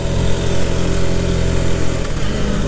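A Rieju Century motorcycle engine runs steadily close by with a buzzing, even drone, holding a constant note throughout with a slight shift near the end.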